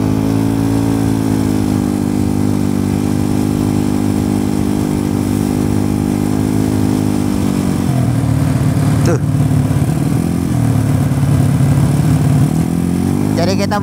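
A Yamaha Mio scooter with a 300cc engine drones steadily while riding, loud and close, its pitch dropping partway through before climbing again near the end.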